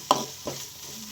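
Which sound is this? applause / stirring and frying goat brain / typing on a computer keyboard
stirring and frying goat brain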